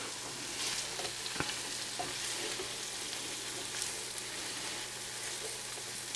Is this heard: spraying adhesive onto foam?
no